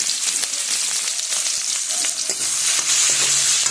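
Chopped onion and crushed garlic, with cumin and nigella seeds, frying in oil, a dense, loud, continuous sizzle with occasional stirring clicks close up.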